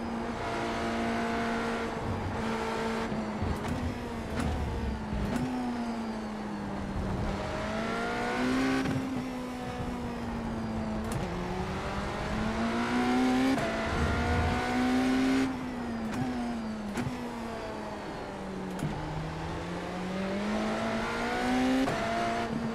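A BMW LMDh prototype race car engine in iRacing at Interlagos drones loudly and continuously, its pitch rising through gears and dipping on downshifts over about twenty seconds of steady on-track running.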